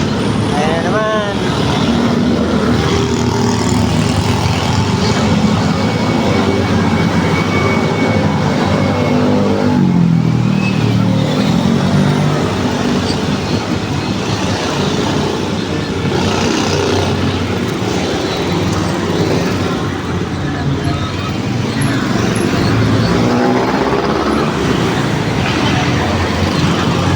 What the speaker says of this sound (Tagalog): Puro sasakyan na lang yung naririnig ko.